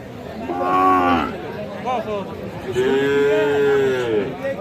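Sahiwal bull calves at a cattle market in Dinajpur, two long, loud, close moos with rising and falling tones, separated by a short gap with softer background chatter.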